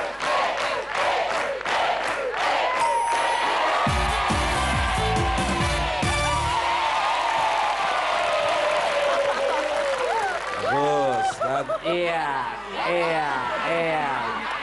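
A studio audience at the Indonesian game show Famili 100 breaks into a burst of applause, dense and loud at first, then fades as a presenter's voice takes over.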